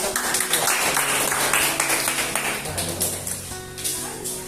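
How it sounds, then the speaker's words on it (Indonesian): A classroom of students claps together during a teaching practice session, with dense clattering applause that thins out and gives way to ringing tones near the end. "Tepuk tangan."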